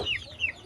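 Young chicks peeping: a few high, falling chirps repeat in quick succession, fairly close and moderately loud.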